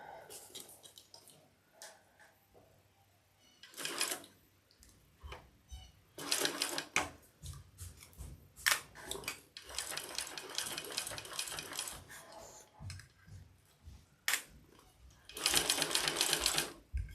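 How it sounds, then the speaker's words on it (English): A cylinder arm sewing machine stitching in several separate bursts of fast mechanical whirring and clatter, fairly close, with quiet gaps and handling noises in between, plus some talking. "Victoria, this is called a cylinder arm machine."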